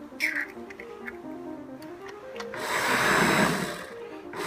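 A food processor pulses eggs into chopped parsley for fritters, giving a short whir early on and then a louder, sustained blending roar that swells toward the end, close by.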